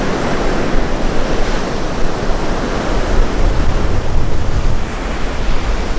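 Sea waves wash steadily onto the shore under a gathering storm, a continuous loud roar of surf with gentle swells in intensity and no voices.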